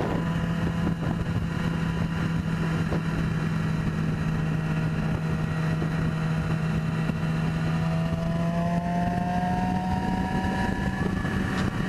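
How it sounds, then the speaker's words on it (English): Yamaha R6 motorcycle engine and exhaust running at a steady, continuous drone with a low hum, close and loud, with rushing wind over the microphone and a pitch that rises slightly near the end. "the sound of the exhaust is a lot better on the R6"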